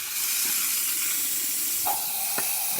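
Steam hisses steadily from the freshly regasketed steam assembly of a Zacconi espresso machine, a strong continuous broadband rush with a couple of brief sharper tones near the end.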